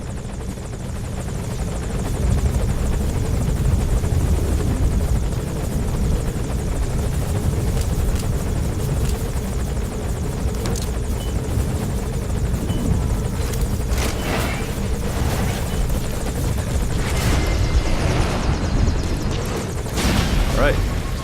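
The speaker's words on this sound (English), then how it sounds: "looks like the helicopter has moved into a holding pattern here" A helicopter holds a circling pattern overhead in Metal Gear Solid 5: The Phantom Pain, its rotor drone continuous and fairly loud, with bursts of noise and a voice occasionally speaking over it.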